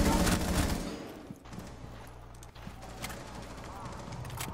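Gunfire in the tactical shooter game Rainbow Six Siege, with several sharp shots popping off in a quick burst early on, then sparser reports over a steady low game hum, with voices talking alongside.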